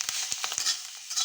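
Neem leaves frying in a little oil with salt, a bright crisp sizzle with a few quick stirring scrapes, close and steady.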